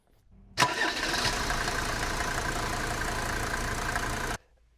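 An old Mercedes 190D 2.5-litre diesel engine with 330,000 km cranks and catches with a sharp burst, then runs at a steady, clattering idle for several seconds before shutting off.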